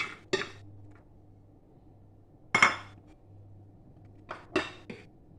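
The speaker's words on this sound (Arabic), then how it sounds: "هنا غادي ندير الحمص" Chickpeas dropped into a pot for harira soup give a few short, bright clattering bursts, one early, one in the middle and a pair near the end, over a low steady hum with no talking.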